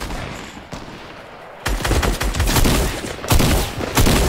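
Fortnite duos gunfire comes as dense, loud bursts of rapid shots, with heavier volleys after a brief lull. It sounds close and continuous, with no clear talk over it.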